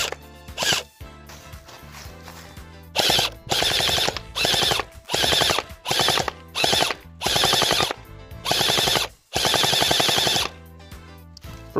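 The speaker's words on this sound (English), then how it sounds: "So, first off, let's start with shooting at the target." An Unlocx V1 gel ball blaster pistol firing at a target in rapid bursts: about eight loud, close, buzzing full-auto strings, each around half a second to a second long, separated by brief silences.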